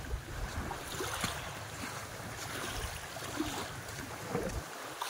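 Motorboat (pumpboat) travelling on the water near a resort in the Dinagat Islands, a steady low engine rumble under wind and water wash, continuous and fairly faint, with no talking.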